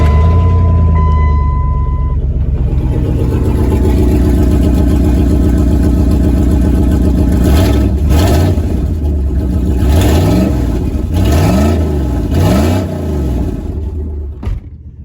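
1998 Dodge Ram 1500 4x4 truck, with its check engine light on, fires up and idles loud and close, then revs repeatedly in several rising and falling bursts before settling, with no talk.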